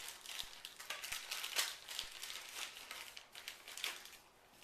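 Cable kit packaging being unwrapped by hand, a steady run of soft crinkling and rustling plastic with a few light knocks, close and fairly quiet throughout.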